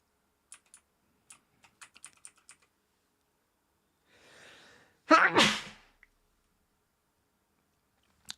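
A single loud human sneeze erupts up close after a soft breathy intake, preceded by scattered light computer keyboard clicks and followed by quiet.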